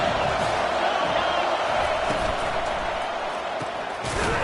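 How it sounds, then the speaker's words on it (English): A stadium crowd at an American football game roars steadily during a third-down defensive stand, a dense continuous wall of cheering with scattered sharper shouts throughout. "Decibels rising as the crowd gets behind this defense on third down."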